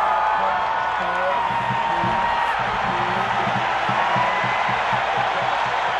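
Ole Miss Rebels home crowd at a 1988 college football game against Florida, a loud, continuous roar of cheering under a commentator's voice.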